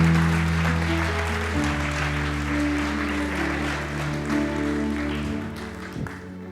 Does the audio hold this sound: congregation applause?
yes